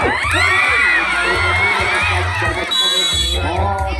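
A crowd at a gobak sodor match shouts, whoops and cheers loudly and continuously, with a few bangs mixed in and an excited voice calling out over the din.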